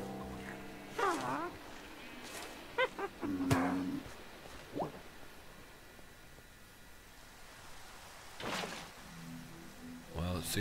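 Cows moo in Minecraft with the All The Mods 3 modpack: several drawn-out lowing calls at moderate distance, scattered over a steady hiss of rain-like background noise.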